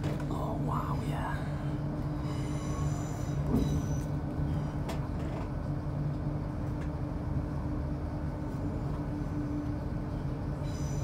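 An LNER train rounding a curve, with a steady loud rumble of wheels and carriage noise throughout and faint squeal-like tones above, while people talk softly nearby.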